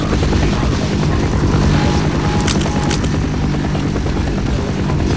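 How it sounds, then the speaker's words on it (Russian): A helicopter in the video game Half-Life gives off a loud, steady rotor and engine drone that holds constant and close for several seconds. "Так, вертолет, я надеюсь, не стреляет."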